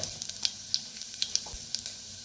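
Half a spoonful of mustard seeds with cumin hits well-heated oil, giving a steady frying hiss punctuated by sharp, irregular pops and crackles close by.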